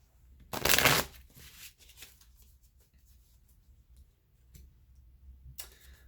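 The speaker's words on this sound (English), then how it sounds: "I'm going to choose a couple of the Twin Flame Oracle cards." Twin Flame Journey Oracle cards are shuffled in one brief, crisp riffling burst near the start, followed by quieter ticks and card handling sounds close up in a quiet room.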